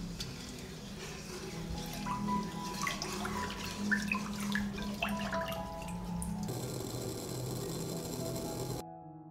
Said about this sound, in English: I'll wait for the dressing to boil.